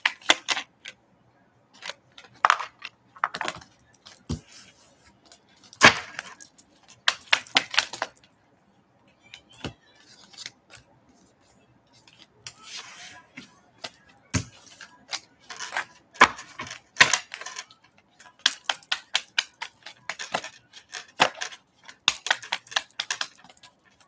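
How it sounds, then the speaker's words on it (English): Tarot cards are shuffled and pulled in short bursts of crisp riffling and flicking, irregular and close, with quiet pauses between handfuls. "I'm gonna pull like two more cards here"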